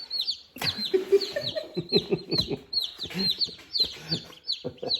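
Chicks and chickens raised alongside ducklings, clucking and peeping repeatedly up close in a busy, irregular chorus.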